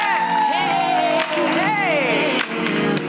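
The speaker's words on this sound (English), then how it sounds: "Let's welcome to the stage a big, loud round of applause for Candace and Cassandra" A conference crowd greets two panelists walking onstage with loud cheering, whoops and clapping. Bright voices rise and fall across the swell, close and energetic.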